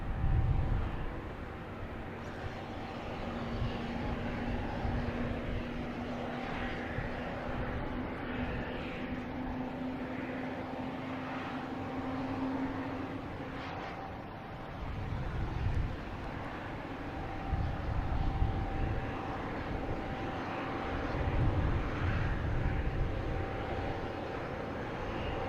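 An American Airlines Boeing 737-800 takes off at Boston Logan Airport, its jet engines a sustained, distant roar that swells and fades over about twenty-five seconds, with no talking.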